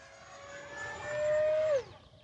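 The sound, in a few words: E-flite Habu XS 80mm EDF jet model flying a pass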